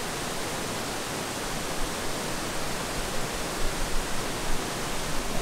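A roaring waterfall at Tukmei Waterfall in Vietnam thunders as a steady, dense, loud wash of water noise that fills the whole clip with no pauses.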